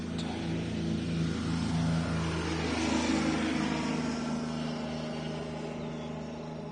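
EasyJet airliner taking off, a continuous roaring jet rumble that swells and then slowly fades, heard from a distance with no talk.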